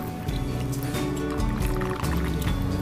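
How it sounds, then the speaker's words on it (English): Vinegar poured into a pan of salmon chutney, a steady liquid pour with bubbling and low simmering rumble running continuously and fairly loud throughout. "So I'm going to just put in a wee bit more vinegar."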